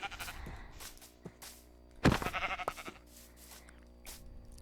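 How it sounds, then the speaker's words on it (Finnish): Minecraft sheep bleating inside the video game, several short wavering baa calls spread across the stretch with one louder bleat in the middle, over faint in-game ambience. "kun tossa on viimeinen lammas"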